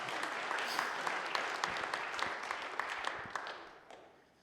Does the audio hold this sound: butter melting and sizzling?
no